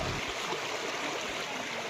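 Floodwater of the Vakdi river pouring across a bridge roadway, a steady, dense rushing roar with no break, close and strong throughout.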